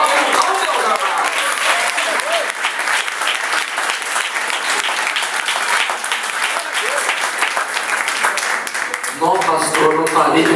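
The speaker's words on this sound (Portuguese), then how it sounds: "Uma salva de palmas então" A church congregation bursts into sustained applause during a sermon, dense and loud clapping filling the room for about ten seconds before a voice and music emerge near the end.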